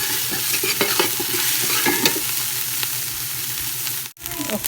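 Chopped aromatics stir-fried in a pan for a Lao pork and bamboo shoot dish, a loud close sizzle with scraping stir strokes, cut by a brief dropout near the end.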